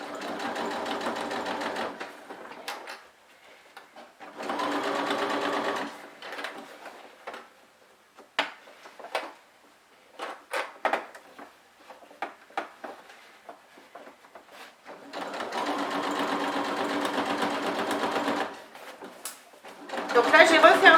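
A sewing machine stitches fabric for a bread basket in three separate bursts, each a few seconds long, sewing around the edge with a lengthened stitch. Between the bursts come quiet handling clicks and taps and brief talk.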